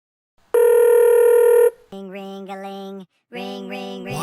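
A telephone rings while a call is placed: a loud, steady electronic ring tone lasting about a second, followed by two longer warbling tone bursts with a short gap between them.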